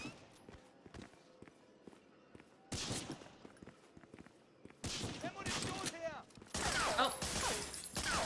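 Video game gunfire crackles in bursts, sparse at first then denser and louder with rapid volleys near the end, mixed with faint footsteps and game effects.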